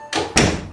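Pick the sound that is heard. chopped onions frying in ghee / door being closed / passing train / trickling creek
door being closed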